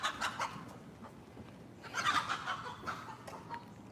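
A few chickens cluck in short, scattered bursts, fairly close but soft, with quiet gaps between the calls and no talk.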